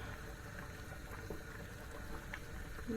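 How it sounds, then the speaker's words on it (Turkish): A pot of tomato menemen bubbles and simmers steadily, a continuous low rolling boil with soft popping, close by and without voices. "melemenim çok güzel bir şekilde kaynıyor"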